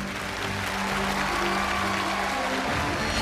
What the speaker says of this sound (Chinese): 接下来让我们掌声有请我们今天专门请到的裁判郭传威先生。